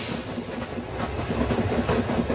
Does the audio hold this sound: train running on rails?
yes